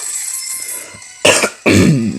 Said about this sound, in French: Vous voyez, je vais tousser là.